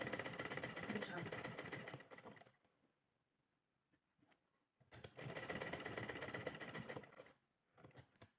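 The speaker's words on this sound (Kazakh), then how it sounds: "Осылай тігіп шығамыз." A sewing machine stitches an apron in two steady bursts, each about two to three seconds long, separated by a short quiet pause. The whirring is close and fairly loud, with nobody speaking.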